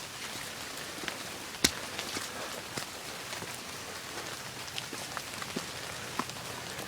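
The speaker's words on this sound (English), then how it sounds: "Of course, it's still raining." Rain falls steadily on the Appalachian Trail, a soft, even hiss of drops with scattered sharper taps and patters from nearby surfaces, quiet and continuous.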